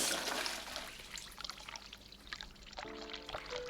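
A toilet flush in The Cat Lady game, with a loud rushing surge of water that tapers into gurgling, followed by a short tonal chime near the end.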